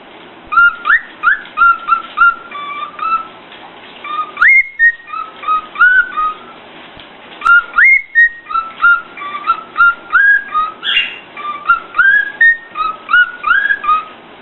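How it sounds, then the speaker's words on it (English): A cockatiel whistles a melodic tune from The Sound of Music in bright repeated phrases, pausing briefly twice before carrying on, close and clear with no talking. "My first video was of Monty singing a song from The Sound of Music"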